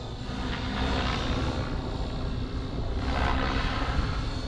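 Radio-controlled helicopter flying stunts, climbing and flipping inverted, its rotor and engine giving a steady, loud, continuous buzzing drone that swells slightly as it climbs, with no talk.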